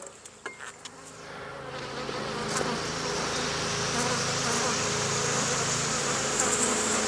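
Honey bees buzz in an open hive during an inspection, a dense, close hum that swells after a few clicks and handling sounds, then holds steady with no talking.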